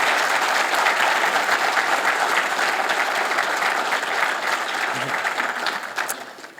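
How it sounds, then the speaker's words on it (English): Crowd at an investiture ceremony for Honorable Michael M. McNamara breaking into a round of applause: thick, steady clapping from many hands filling the room, thinning out in the final second. "So if you could give her a round of applause, I would appreciate that"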